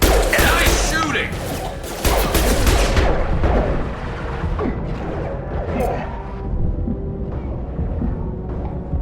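Rapid bursts of gunfire from a Mass Effect 2 firefight, loud and dense at first, then thinning into scattered shots and impacts with some voices mixed in.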